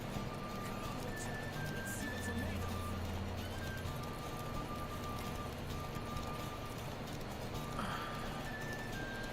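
Horses galloping in a horse race in the Witcher 3 video game, a faint steady clip-clop of hooves under a constant background wash and game music, with people talking over it.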